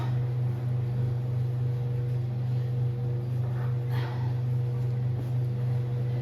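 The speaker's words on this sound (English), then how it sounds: "the washing machine and the dryer are both on" A steady low mechanical hum of household machines running, constant and unchanging throughout, with faint background noise above it.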